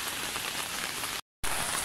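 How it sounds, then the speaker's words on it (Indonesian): Heavy, cold rain falls steadily in a continuous dense hiss while someone walks to work under an umbrella, broken briefly by a short silent gap before the downpour resumes. "kita mau kerja pakai payung, jalan kaki, hujan lebat dan dingin pula"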